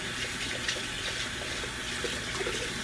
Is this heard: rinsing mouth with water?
yes